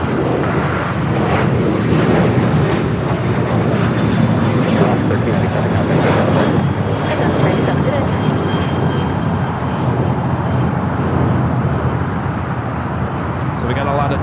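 A 737-800 airliner takes off from runway 25 at Los Angeles International Airport, its engines producing a steady, loud broadband roar that holds throughout, with faint traffic noise mixed in.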